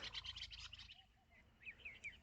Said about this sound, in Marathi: ऐकला का चित्राचा आवाज तुम्ही